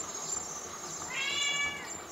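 A cat meows once or twice, a drawn-out high cry rising in the middle of the clip, set in a game about luring chickens, with a faint steady background hum and no talk.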